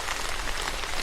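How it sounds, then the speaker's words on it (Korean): Steady rain falling at night, a dense, even hiss with soft patter of drops on a surface, continuous and moderately loud with no voices. "밖에서 빗소리가 들렸습니다."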